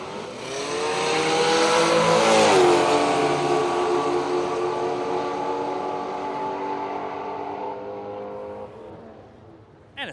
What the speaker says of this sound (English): Plenty of power to burn those tyres out there in the burnout box, and goes pretty good too, this little Bluebird.